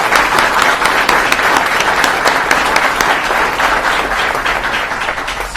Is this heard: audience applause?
yes